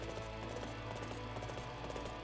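Horse hooves galloping in the video game Dynasty Warriors 8 Empires, a fast continuous clip-clop rhythm over dense battle noise and music.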